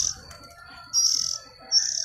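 Oriental magpie-robin nestlings in a nest give thin high chirps in two or three short bursts, near and fairly clear over a quiet background with faint clicks.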